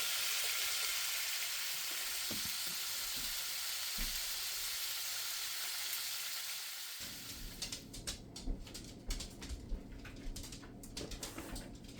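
Italian sausage sizzles in a pan, first as a steady broadband hiss, then as louder crackling and popping bursts in the second half, heard close and with no talking.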